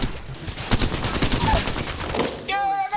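Rapid bursts of gunfire from Apex Legends ranked play, a loud volley of repeated shots across the first two and a half seconds, ending in a bright ringing in-game effect.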